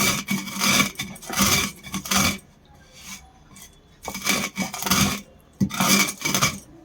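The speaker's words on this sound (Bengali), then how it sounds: "এরকমভাবে হালকা হালকা করে গুঁড়ো করে নিতে হবে।" Spices for a Bengali cauliflower paratha are coarsely crushed by hand, producing rough, gritty grinding strokes in several rhythmic bursts separated by brief pauses, close and fairly loud.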